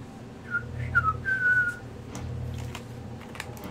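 A person whistles a short rising-and-falling tune in a few quick phrases at close range, over a steady low room hum.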